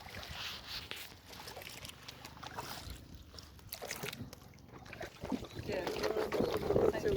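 Boats moving on open water along a crowded shore near Silvassa and Daman, with steady wash and wind buffeting the microphone, growing louder toward the end.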